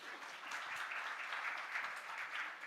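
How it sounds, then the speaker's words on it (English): Audience applause at a conference at the ITC Grand Chola, a steady wash of many hands clapping that carries evenly from start to finish with no talk over it. "A big round of applause."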